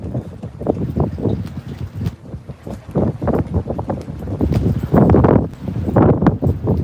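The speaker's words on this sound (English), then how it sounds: "It's getting windy again." Gusty storm wind on the Oregon coast buffets the microphone in uneven, rumbling surges, with a heavy low roar that swells and fades throughout.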